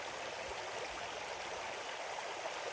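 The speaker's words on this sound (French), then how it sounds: "tu peux venir te mettre à côté d'un ruisseau, là c'est plutôt une rivière" A river flows in a steady, full rush of water, close and unbroken, with no voices over it.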